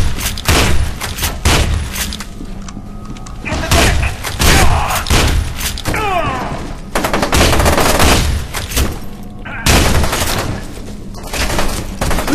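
Dense, loud gunfire from the first-person shooter F.E.A.R. 2: rapid automatic bursts and heavy thumps that keep returning across the stretch, with brief lulls between volleys and a voice shouting over parts of it.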